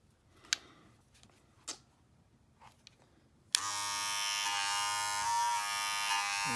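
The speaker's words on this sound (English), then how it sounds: "Nice solid black clipper. Nice and light. Power." A black Wahl electric hair clipper switches on after a few faint taps and clicks, then runs with a loud, steady, close-up buzz until the end.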